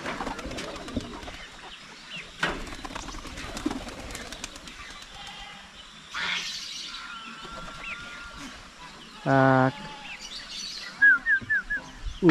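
Young pigeons coo softly among scattered chirps and flutter-like taps, fairly faint and distant within a busy outdoor background, with a brief louder burst near the end.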